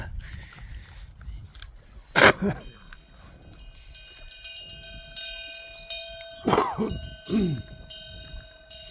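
A black-and-tan Jindo puppy crunches food in a yard, with a few sharp, close crunches in separate bursts over a faint background tone.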